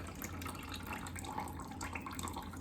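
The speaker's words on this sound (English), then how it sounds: "drain this juice right in my juice draining bowl that I just created" Juice from an opened can of corn drains into a bowl, a faint, continuous trickling and splashing of liquid with soft irregular drips, close by and without talk.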